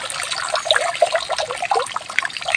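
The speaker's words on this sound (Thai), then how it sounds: "น้ำไหลออกเบิดก่อนครับ" Water drains and trickles out of a fish trap set for small river fish, a close, steady splashing gurgle with no talk.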